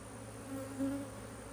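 Honey bees buzz in an open hive, a faint, steady low hum lasting under two seconds with slight swells in the middle.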